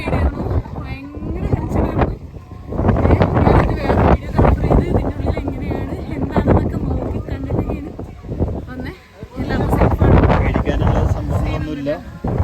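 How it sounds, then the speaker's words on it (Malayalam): Strong wind buffets and rumbles against the microphone in gusts, loud and continuous, with people talking underneath. "കാറ്റ് മാത്രമാണ് അത്"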